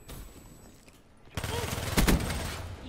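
Gunfire in the shooter Call of Duty Black Ops III: a quieter stretch of game ambience gives way to a louder run of shots, with a sharp peak of firing near the end and a voice talking faintly underneath.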